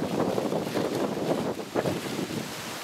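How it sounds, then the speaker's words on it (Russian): Steady wind buffets the microphone in a continuous roar, gusting slightly stronger and weaker throughout. "Ветер сегодня"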